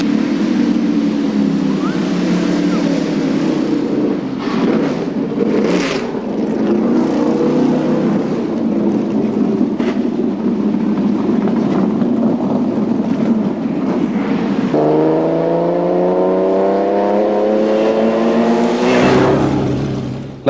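A Le Mans Jaguar C-Type racing car drives past on a track, its engine a loud continuous drone, then a rising whine as it accelerates away near the end.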